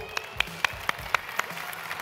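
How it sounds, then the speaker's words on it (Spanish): Sparse, scattered clapping from a small audience at a gastronomy forum presentation in Barcelona, with distinct individual claps spaced irregularly over a faint background. "Un aplauso para él."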